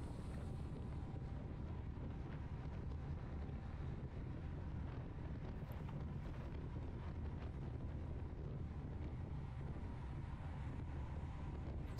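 Headwind buffets a GoPro mounted on a racing bike during a criterium on a motor-racing circuit, a steady low rumbling roar with no talk.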